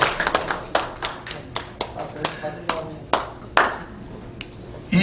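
A few people clap sparsely at a church appointment ceremony of a Christian federation in Seoul: individual sharp hand claps land irregularly, close and distinct, rather than merging into a full round of applause.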